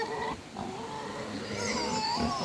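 A sow on a small farm grunts repeatedly in short, rough bursts, close and fairly loud against steady barnyard background noise.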